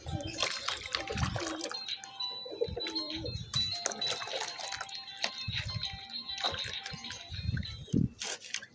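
Pigeons are bathed in a bucket of water, with splashing and soft wing flutters mixed with cooing and other bird calls throughout, and someone talks intermittently over the activity.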